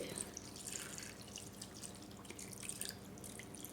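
Water is poured over raw liver coated in ginger garlic paste, giving a faint, close trickling and dripping sound with no voices.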